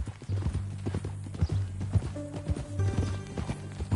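A horse's hooves clip-clop at a walking pace in a video game, close and steady with a low rumbling bed, and a faint snort or whinny partway through.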